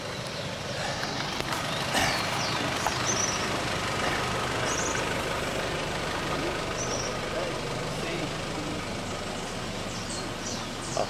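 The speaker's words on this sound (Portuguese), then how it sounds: "vamos arrancar na base do trator." Tractor engine straining steadily to pull a stuck vehicle free on a rough dirt road, a constant loud low rumble with occasional bumps, voices talking over it throughout.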